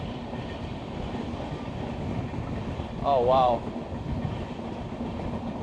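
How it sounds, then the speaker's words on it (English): A train in India rumbles and rattles along the rails with a constant clattering roar, heard near an open window with wind, while a person briefly exclaims in the middle. "This is part of the train experience right here."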